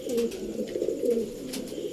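Chandni pigeons coo softly and continuously, low throaty burbling calls repeating close by.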